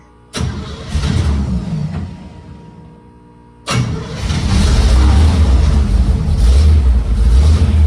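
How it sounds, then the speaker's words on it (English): A 1936 Ford Coupe hot rod with an electric fuel pump cranks loudly and briefly stalls, then cranks again and catches, settling into a steady, loud, rumbling idle. "is to fire the car up. So turn the ignition switch on, turn the electric fuel pump on. Let's fire this thing."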